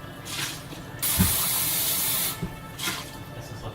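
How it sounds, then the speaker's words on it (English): Tap water sprays hard into emptied Spam cans being rinsed at a sink, a loud steady gush for over a second between quieter splashing bursts. "And rinse these Spam cans out."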